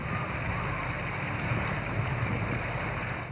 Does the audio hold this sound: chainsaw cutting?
no